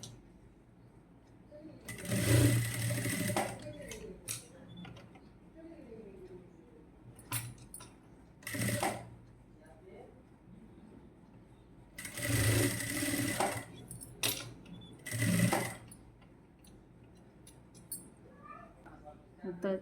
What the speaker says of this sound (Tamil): இப்படி திருப்பி மேல் தையல் போடுங்க.